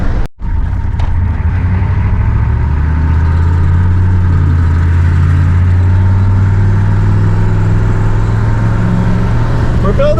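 A 6.2 truck engine fitted with a Banks turbo, high-mileage, droning steadily from inside the cab as it builds boost, a loud continuous low rumble with a rising tone and no talk.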